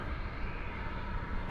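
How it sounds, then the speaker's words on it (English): A DHL Boeing 767-300 cargo jet operated by ABX Air, a 1991 airframe, roars steadily at Dallas Fort Worth airport, a loud broadband engine rumble with no voices. "The DHL, operated by ABX Air. It's flight 1102 going to Cincinnati. This is a 767-300."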